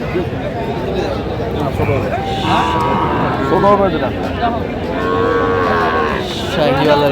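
Sahiwal cattle moo repeatedly with long, drawn-out calls at a busy cattle market, heard over a constant crowd babble of people talking nearby.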